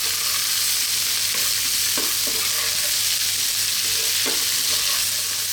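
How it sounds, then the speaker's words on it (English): Vegetables for fried rice sizzle steadily in a hot pan while being stir-fried, a loud continuous hiss broken by a few soft scraping knocks of the utensil as they are kept moving. "stir frying these vegetables for 2 to 3 minutes now"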